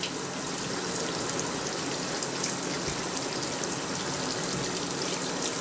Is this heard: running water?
yes